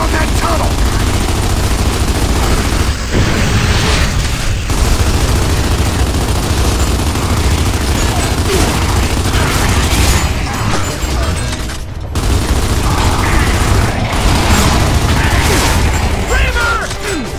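Heavy continuous gunfire and explosions on the Xbox 360 shooter Gears of War 2, loud and dense throughout with brief dips, shouted soldier voices mixed in.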